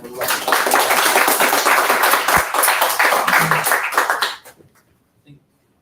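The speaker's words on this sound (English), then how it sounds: "So I'd like to give us all a round of applause." An audience at a Flutter developer meetup gives a round of applause, dense clapping for about four seconds that thins out and stops, leaving near silence with one last faint clap.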